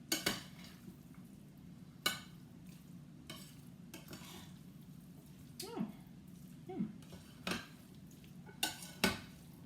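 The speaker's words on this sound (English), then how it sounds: "I'll mix that a little bit, and then I'll see if I need to add any more" A spoon stirs Russian salad dressed with mayonnaise in a bowl, giving soft, wet scraping and clicking strokes at an uneven pace, close and fairly quiet, with a few sharper taps against the side.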